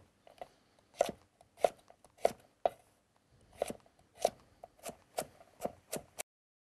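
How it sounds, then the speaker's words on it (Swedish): A knife chops a large carrot into smaller pieces, about a dozen crisp, separate knocks on a board in a loose, uneven rhythm, close and clear with no talking. "så börjar vi med en stor morot som vi skär ner i lite mindre bitar"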